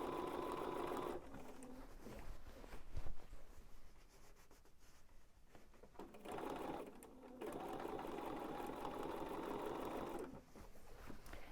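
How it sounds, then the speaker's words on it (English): Sewing machine stitching bias binding close to the edge of a scalloped piece of fabric, running in several bursts of steady whirring with brief pauses between them, close and fairly quiet. "Just gonna sew close to the edge."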